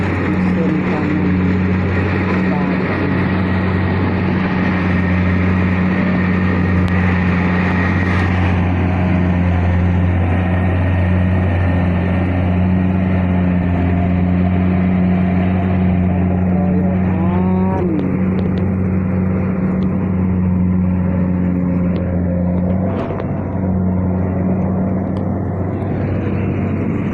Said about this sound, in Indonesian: mesin panen